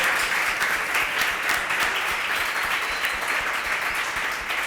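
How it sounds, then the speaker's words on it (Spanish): Audience at a Spanish-language talk or panel session applauds steadily, a dense continuous wash of clapping sustained loudly through the whole stretch with no voices over it. "Pediría un fuerte aplauso para ellos por estar con nosotros en esta hora."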